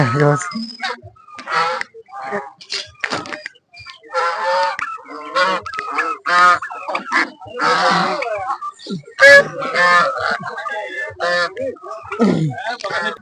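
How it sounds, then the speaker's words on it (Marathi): Large geese honk repeatedly, loud and close, in short harsh bursts, at an agricultural exhibition in Palus. A voice talks intermittently between the calls. "हा राजहंस गीत जातीचा पक्षी आहे याचे शास्त्रीय नाव गीज असे आहे"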